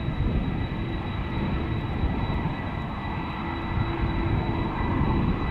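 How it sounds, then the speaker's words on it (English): A Delta Airlines jet at Amsterdam Schiphol Airport builds engine noise before departure, a loud, steady roar with a thin high whine running through it, heard alone without voices. "The engine noise far preceding the airplane's appearance."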